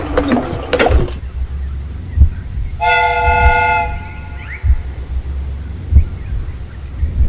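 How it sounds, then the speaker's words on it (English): The steam whistle of a replica train in a Sherlock Holmes video game gives one clear harmonic toot about a second long and then drops in pitch as it ends. Clanks and low rumbling game sounds come before and after it. "The steam whistle is ready to be used."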